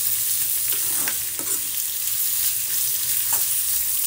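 Mixed vegetables for chow mein sizzle and crackle in a small kadai on a home stove, with a loud, even frying hiss broken by a few stirring scrapes.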